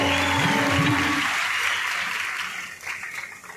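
Audience applause fills a hall at a district administration ceremony in Amravati honouring students who succeeded in competitive exams. The clapping starts strong over a brief voice and gradually thins and fades.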